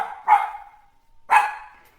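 Two sharp dog barks about a second apart, close and loud, standing alone against silence in a children's audiobook about three dogs.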